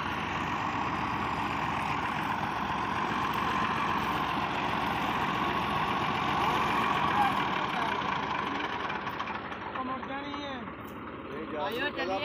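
A tractor engine idles in a village during the wheat threshing season, giving a steady low rumble with a rhythmic chug that eases slightly toward the end. Voices talk alongside it.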